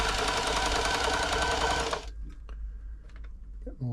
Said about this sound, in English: now I can run the machine, and the machine will now operate and work the oil into it